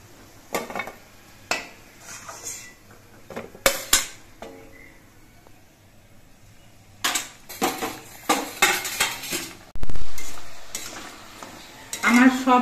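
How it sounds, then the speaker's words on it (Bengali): Fried angul gaja sweets are lifted out of a kadai of hot oil: sharp metal clanks and scrapes from the utensil come in bursts over a soft background sizzle. "এবার এই গজাগুলো আমি তুলে নিচ্ছি"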